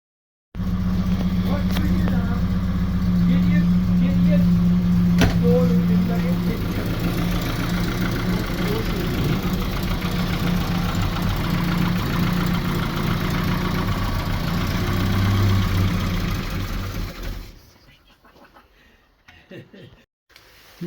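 A Morris Marina car engine under restoration runs and idles, a loud steady low rumble for most of the clip before cutting out near the end, leaving quiet clicks and rustling.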